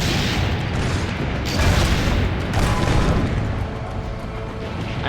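Cannon fire in Assassin's Creed Brotherhood comes through as a loud, continuous booming roar with deep rumbling weight that swells in the middle and then eases slightly, with no talk over it.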